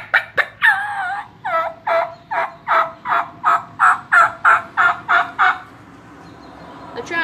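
A hand-operated turkey mouth call imitating a gobbler: a rapid series of about a dozen loud, evenly spaced yelping notes close by, rising then settling into a steady rhythm before trailing off, with no talk.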